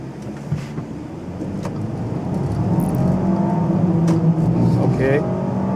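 A 2016 Audi A5 Coupe accelerates hard from a standstill toward 60 mph, engine note climbing steadily and growing louder from inside the cabin, with people talking over it.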